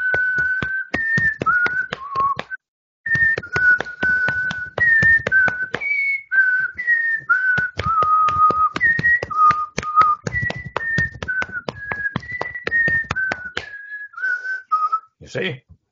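A person whistles a tune alone, a steady string of clear, separate notes rising and falling in a slow melodic phrase, close and fairly loud throughout, with a few brief pauses.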